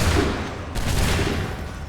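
A volley of musket fire in Assassin's Creed 3 erupts as a dense, rumbling crackle of many shots at once, loud and broad, fading into a lingering roll of smoke-like noise.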